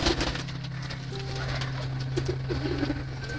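Domestic pigeons cooing inside a loft while being fed, a steady low murmur of overlapping coos close by with faint bird movement and no talk.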